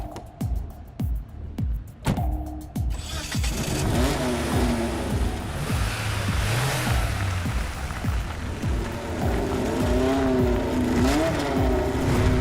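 A fast car's engine revs and accelerates hard in an action movie chase, with sharp staccato bursts at first, then a sustained loud roar with pitch climbing and dipping through gear changes, close and dominant.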